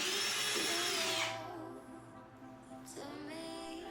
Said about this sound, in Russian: Отверстие сверлится через 2 боковые стенки.